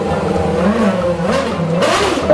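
A formula racing car engine revs with rising and falling pitch sweeps, close and loud, the tone climbing sharply at the very end without any voices.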